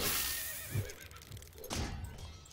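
A horse in a video game neighs loudly up close, with a whinny that rises and falls over a couple of seconds, and a few hoof clip-clops come in under it.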